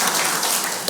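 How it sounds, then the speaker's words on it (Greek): Brief, steady applause from an audience at a book presentation in Kaisariani, Athens, a dense wash of clapping lasting about a second. "Το πρώτο χειροκρότημα."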